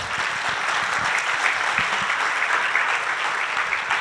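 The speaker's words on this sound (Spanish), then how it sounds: "Y pues un aplauso para ellas primero antes de pasar." Steady, dense audience applause at a televised panel on road accident prevention, a full crowd clapping continuously at an even level for a few seconds.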